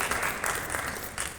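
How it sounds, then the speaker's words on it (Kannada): Audience applause for the artists at a Sri Ramanavami music festival concert, a dense steady burst of many hands clapping at moderate distance. "ಜೋರಾದ ಚಪ್ಪಾಳೆಯೊಂದಿಗೆ ಕಾರ್ಯಕ್ರಮವನ್ನು ನಡೆಸಿಕೊಟ್ಟಂತಹ ಕಲಾವಿದರಿಗೆ"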